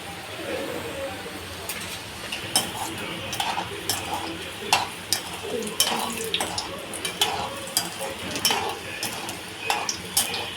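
Snack pieces dropped one at a time into hot oil and deep-fried until crisp and reddish, giving a close, steady sizzle broken by repeated sharp crackling bursts.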